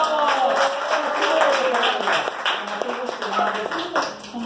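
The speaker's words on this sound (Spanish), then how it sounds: "aplausos!" An audience at a party clown show claps loudly over a performer's voice, with the clapping strongest at first and thinning into scattered claps toward the end.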